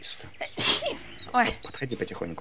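A single sharp sneeze bursts out amid close, casual conversation, with people talking before and after it.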